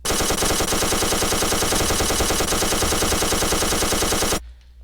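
A WWII-era machine gun in the Minecraft Flans Mod fires continuously in a loud, dense automatic burst for about four seconds, then cuts off abruptly into near silence.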